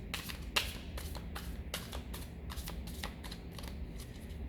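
A deck of cards is shuffled during a tarot reading, giving a quick run of crisp riffling snaps and taps, close and fairly soft, with no talking.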